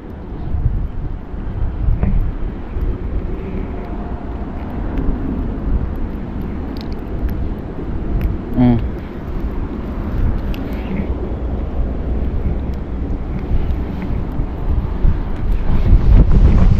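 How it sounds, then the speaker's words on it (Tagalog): Strong wind at sea roars steadily against the microphone, a constant buffeting rush with faint engine rumble beneath. "Ayan na, lakas ng hangin."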